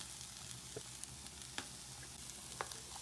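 Onion, carrot and capsicum fry in a pan, giving a low, steady sizzle with occasional stirring clicks and scrapes, fairly quiet and free of talk.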